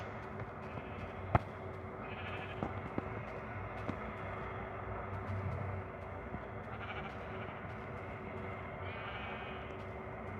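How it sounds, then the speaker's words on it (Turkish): Sheep bleat in the video game Minecraft, a few short bleats mixed with soft clicks and ambient game noise at low volume. "Bak orada bir tane daha koyun var."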